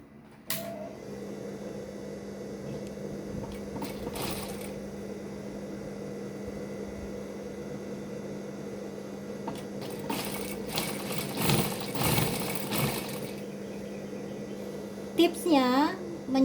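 Sewing machine stitching a bag panel in Armani fabric: a steady, low motorized hum with bursts of faster stitching and rustling fabric, fairly quiet, with a voice talking at times.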